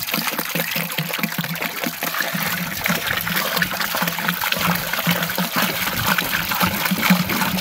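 Water poured steadily into a container as part of a gasoline fireball demonstration setup, a continuous close trickling and splashing that runs the whole time with no talk over it.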